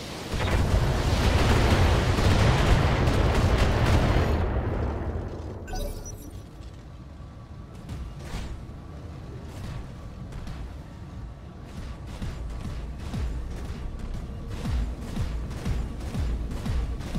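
Heavy mech weapons fire in the BattleTech video game: a loud, dense blast of explosive noise lasts about four seconds, then drops away to scattered, fainter impacts and pops.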